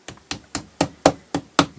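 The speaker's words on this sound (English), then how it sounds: "when I hammer the rivet in" A hammer strikes a rivet into a wooden knife handle made from a saw blade, seven sharp, evenly spaced metallic taps, close and loud, with no talk.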